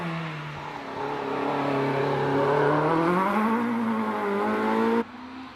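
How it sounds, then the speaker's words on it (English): A much-modified Peugeot 106 GTI racing up the Prescott hill climb course. Its engine revs climb steadily and rise through a gear, loud and close, then the sound cuts off sharply near the end. "the little Peugeot 106 GTI, but much modified and very quick"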